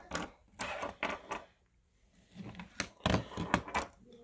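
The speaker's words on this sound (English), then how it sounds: "It takes a T4 bit. You just put it on and unscrew it." A T4 bit unscrews the screw between the headset and base of a Jabra Evolve 75 headset, giving a few close, faint clusters of small ticking and scraping clicks separated by short pauses.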